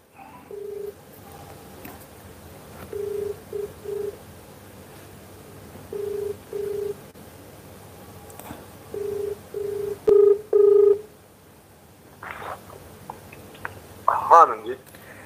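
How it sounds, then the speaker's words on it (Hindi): Telephone dialing tones beep in short bursts, followed by ringback tones as a call is placed to a politician, with background talk and clicks around them. "सरयू राय जी को जरा फ़ोन लगा रहा हूं मैं।"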